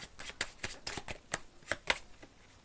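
Tarot cards shuffled and handled up close, with a quick run of crisp papery flicks and snaps over a few seconds and no voices.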